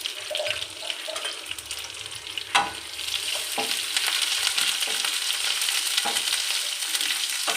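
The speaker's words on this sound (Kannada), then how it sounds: "ಫ್ರೈ ಮಾಡ್ಕೋಬೇಕು" Onion, curry leaves and garlic paste fry in a hot pan, a continuous bright sizzle broken by sharp clinks and scrapes as the spoon stirs against the metal.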